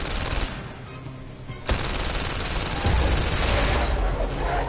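Guns firing in the VR shooting game PlayStation VR Worlds, a dense, continuous rattle of rapid shots after a brief lull, loud and close throughout.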